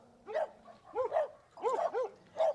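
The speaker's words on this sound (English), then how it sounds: "A lunge and a bark." A dog gives four short, sharp barks in quick bursts, spaced about half a second apart, fairly quiet and with no voices.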